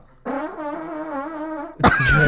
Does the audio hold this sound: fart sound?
yes